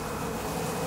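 Honeybees buzz densely while feeding on spilled honey in a wax bin, a close, steady drone of many insects with no pauses.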